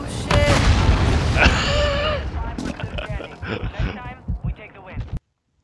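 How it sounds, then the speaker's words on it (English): Airstrike explosions in the video game Warzone 2.0 land as a run of loud booms and thuds over about five seconds, with excited players talking over them, then cut off abruptly. "We're gonna airstrike."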